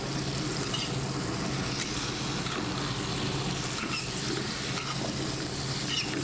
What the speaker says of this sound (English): Stirring it around, get it well coated with the oil and the garlic.